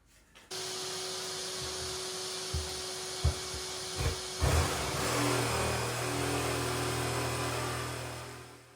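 Jigsaw cutting through an old, cracking kitchen worktop during a kitchen rip-out, with a hoover running right beside it; a steady loud motor drone with a few sharp knocks and bumps and a rougher cutting passage toward the end, no talk.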